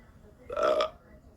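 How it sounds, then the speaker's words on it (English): A single short, throaty burp rises out of a quiet background and fades within half a second. "after I burped, Class act."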